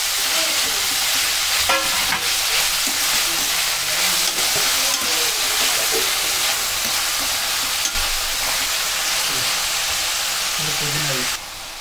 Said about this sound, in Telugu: క్యారెట్, కట్ చేసి పెట్టుకున్న క్యారెట్, టమాటా వేసుకొని కలుపుకోండి